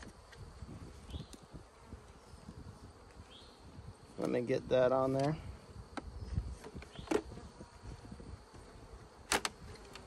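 Honey bees buzz in a beeyard as a continuous low insect drone, with a louder burst of buzzing close by partway through; a person speaks briefly over it.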